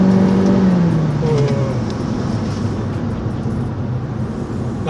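A Honda Civic Hatchback RS engine rises and then eases back under acceleration, heard from inside the cabin as a steady, moderately loud drone with road noise beneath it.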